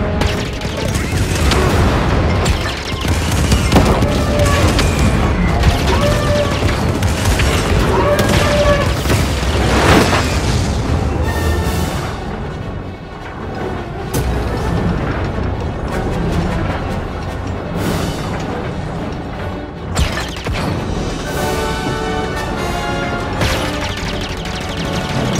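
Heavy cannon fire during a Star Wars Jedi Fallen Order battle on Kashyyyk, loud booming blasts and crashing impacts layered thickly over a dense, continuous game soundscape with music and effects.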